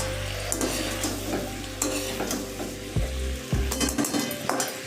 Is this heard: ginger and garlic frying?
yes